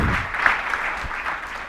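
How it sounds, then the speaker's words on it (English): An audience at a business summit breaks into applause for a team, a steady wash of clapping that holds for under two seconds with no talk over it. "Give them an applause here."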